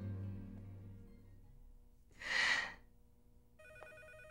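A telephone starts ringing with a steady electronic tone near the end of a soap-opera scene, after a soft breathy burst and low background music.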